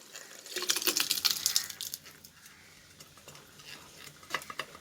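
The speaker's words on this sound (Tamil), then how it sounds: "இப்போது பருப்பு சேர்த்துக்கலாம்." Cooked toor dal stirred into manathakkali greens in a pan, giving a run of close scraping, clinking stirs during the first two seconds, then quieter handling and a few more scrapes at the end.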